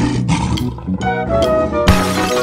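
A lion roars loudly and up close in a short, rough, continuous growl lasting a couple of seconds, mixed with other layered tones.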